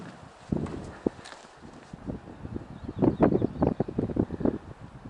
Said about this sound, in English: Wind's up a little bit here, but not bad.